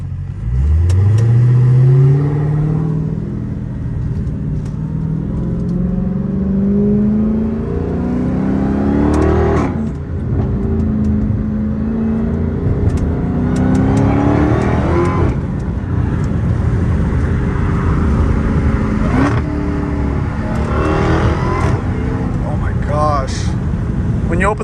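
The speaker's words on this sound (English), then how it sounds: "When you open the window, you can hear the exhaust so well." Engine and exhaust of a 797 hp Dodge Challenger Hellcat Redeye heard from inside the car, a loud rising rev at the start, then sustained engine drone with further pulls and shifts, under a voice talking throughout.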